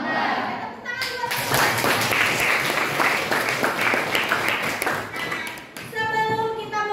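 A classroom of students claps together, a burst of brisk hand claps that swells and holds for several seconds, with a teacher's voice speaking just before and after.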